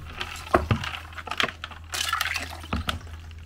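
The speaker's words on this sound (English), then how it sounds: "Just submerge them in the ice water." Temperature clamp probes for a Fieldpiece SMAN 480 manifold dunked into a container of ice water, giving brief wet clinks and sloshes that come close and alone over a steady low hum.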